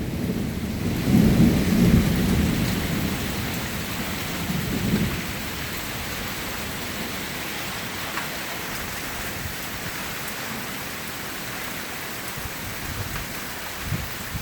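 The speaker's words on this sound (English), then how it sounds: "That's eye-joggling thunder." A thunderstorm with heavy rain pouring steadily on surfaces, a deep rolling thunder rumble building early and fading after a few seconds, then continuous dense rainfall alone.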